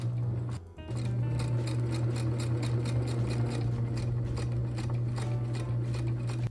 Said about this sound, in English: Then I top stitch along both edges of the tie.